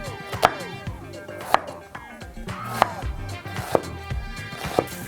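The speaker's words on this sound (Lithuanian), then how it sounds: "Susmulkiname svogūną." An onion being chopped for chicken curry, a knife striking a cutting board in five evenly spaced, sharp thuds about a second apart, close and clear with a faint kitchen background hum.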